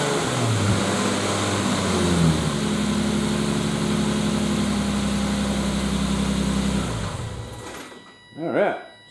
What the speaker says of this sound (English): We're going to rev it up and see how it sounds.